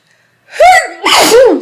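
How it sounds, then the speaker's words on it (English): A single close, loud sneeze from a pregnant woman indoors: a sharp sudden burst followed by a longer second blast, alone with no talk. "I'm about to sneeze."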